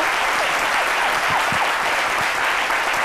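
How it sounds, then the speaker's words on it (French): A studio audience applauds an author arriving on a literature talk show set, steady dense clapping throughout at an even, fairly loud level. "On l'applaudit, s'il vous plaît."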